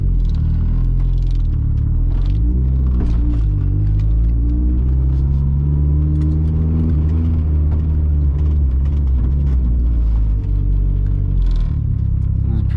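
A turbocharged 1.6L Mazda Miata engine rumbles steadily and loudly from inside the car while driving, its deep drone shifting gently in pitch, with faint clatter over it.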